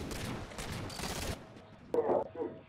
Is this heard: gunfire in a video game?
yes